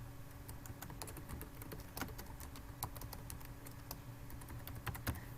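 An address is typed on a computer keyboard in a steady stream of soft, close key clicks with a few louder taps, in a quiet setting with no talking.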